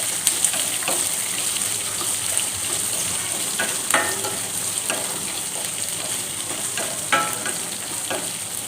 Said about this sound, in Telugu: ఉల్లిపాయ జస్ట్ అలా కాస్త వేగితే సరిపోతుంది.